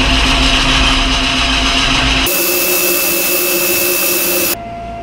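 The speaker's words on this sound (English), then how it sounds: "I can reverse the lathe and go ahead and back it out." Metal lathe machining a lightsaber part, run in reverse to back the tool out: a loud, steady machine whine and hum with tonal lines, shifting pitch partway through and dropping in level near the end, no talk.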